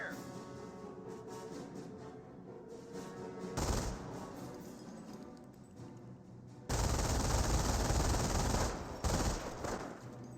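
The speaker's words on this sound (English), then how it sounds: "MG42 does pop out to help clear out the rifleman squad there" MG42 machine gun fire in the Company of Heroes battle game, sustained rattling bursts over a constant din of battlefield noise, loudest in two long stretches, with no voices.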